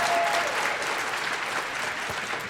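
An audience breaks into applause, dense and even clapping from a crowd that starts full and tapers a little over a few seconds, with no talking on top.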